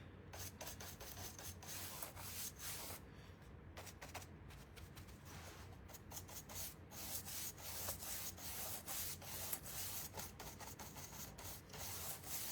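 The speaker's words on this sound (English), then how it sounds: "I'm going to go on here and just dry brush." A brush dry-brushing sable brown paint onto a small garden fence, rapid soft scratchy strokes repeating up and down, close and fairly quiet with no talking.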